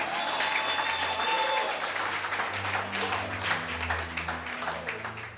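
Church congregation applauding, steady sustained clapping from a crowd with a low hum of voices beneath it.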